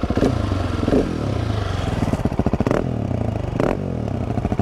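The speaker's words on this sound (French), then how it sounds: "On est sur un beau petit échappement Rémus." A GasGas 700 SM supermoto with a Remus exhaust runs close by, a loud chugging single-cylinder rumble with a couple of sharp throttle blips and clattering pulses.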